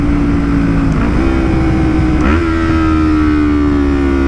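A Yamaha MT-03 motorcycle with a full Akrapovic exhaust, heard while riding: a loud, steady engine drone with a slight pitch dip around one second and a shift near two and a half seconds, then holding a constant tone.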